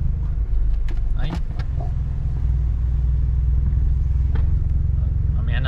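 Steady road traffic in Rome at midday, a loud continuous engine rumble with passing vehicles close by and a few brief clatters, heard alone without talk.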